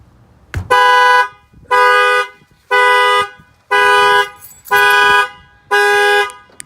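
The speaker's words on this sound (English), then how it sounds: "the alarm will fire off" A Nissan Rogue car alarm set off by its shock sensor blares six loud, evenly spaced horn-like tones, each about half a second long with short gaps between, close and alone.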